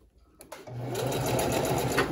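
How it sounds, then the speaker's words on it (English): A sewing machine backstitching elastic onto a leotard starts after a couple of soft clicks and then runs in a steady, close, continuous whir until the end. "And I'll backstitch it."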